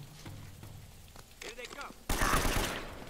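Gunfire from the video game Uncharted: Drake's Fortune starts with a few soft shots under a player's voice. A dense, loud burst of automatic fire breaks out near the end and keeps going.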